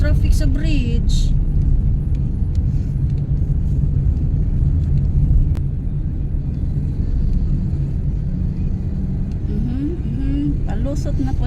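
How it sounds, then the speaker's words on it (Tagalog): Heavy car traffic rumbles steadily on a bridge, a dense, continuous low roar of engines close by, with voices talking over it and brief vehicle sounds rising near the start and end. "Grabe ha, traffic sa bridge."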